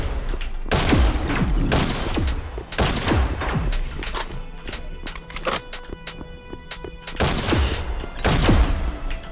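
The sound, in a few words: video game weapon rapidly firing massive bolts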